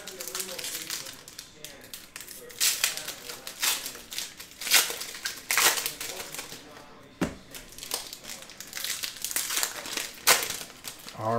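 Plastic wrapping is peeled and crinkled off a box of 2021 Upper Deck Skybox Metal Universe Champions cards, close and irregular crackling throughout, with a voice speaking over it.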